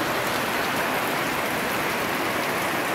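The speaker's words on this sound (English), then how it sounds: "It's raining quite heavy, and this is the grass roof." Heavy rain pours steadily onto a thatched grass roof in rural Isan, Thailand, a dense, loud, unbroken hiss with no voices.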